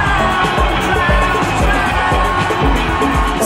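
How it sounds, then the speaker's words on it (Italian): A rave crowd in a club cheers and applauds the DJ, a dense and loud wash of whoops, yells and clapping that runs steadily over a thumping low beat. "Stanno applaudendo il DJ."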